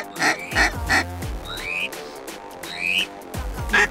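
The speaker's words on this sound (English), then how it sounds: "Behind you, shoot the duck, shoot!" Ducks quack repeatedly and loudly at close range in a late-season duck hunting setting, with a run of harsh calls and a few higher squawks between them.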